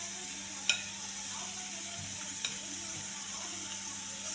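Yogurt masala with paneer fries in a pan for dhaba-style paneer do pyaza, giving a soft steady sizzle with a few light clinks of stirring, fairly faint and close.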